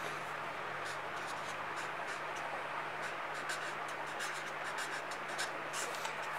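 Pen scratching steadily on paper as notes are written out by hand during a harmonium music lesson, a soft continuous scratching with brief strokes, close and quiet over a low hum.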